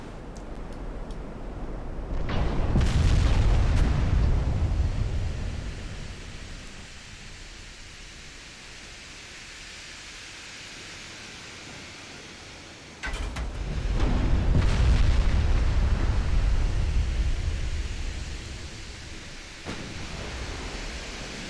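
Naval gunfire in the warship game Ultimate Admiral Dreadnoughts: two heavy, rumbling shot reports several seconds apart, each swelling into a long, broad roar that slowly fades, with no voices over them.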